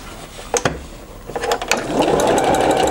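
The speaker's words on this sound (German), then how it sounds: "Und wir nähen dann hier so raus." A sewing machine stitching a patchwork schoolhouse block seam, starting with a few clicks and mechanical taps, then running into a steady whirring hum toward the end.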